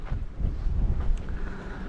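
Strong, steady wind roars through a rock tunnel passage at Inkerman, buffeting the microphone with low rumbling gusts, loud and close throughout.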